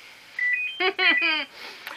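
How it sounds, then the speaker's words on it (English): A telephone rings close by with a sequence of bright electronic tones, first thin single beeps, then a few pulsed chirping bursts, over a quiet room. "And the phone's going."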